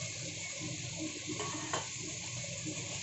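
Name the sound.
chopped vegetables frying in pan for chilli chicken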